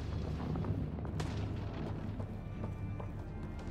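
Gunfire in the sci-fi shooter Mass Effect Andromeda: a steady rumbling battle bed with scattered sharp shots and distant booms running throughout, fairly loud and continuous, with no talking.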